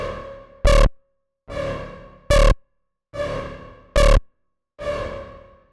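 Synth plugin notes pass through heavy reverb with pre-delay, added bass, saturation and distortion. Six loud, clean bursts alternate between the original and processed versions, each decaying into a long wash, with brief silences in between.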